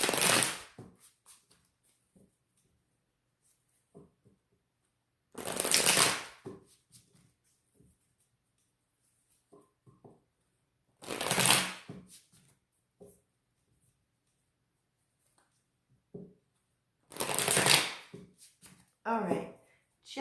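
Tarot cards are shuffled up close in four separate bursts of brisk riffling and slapping, with quiet stretches and faint handling sounds between them.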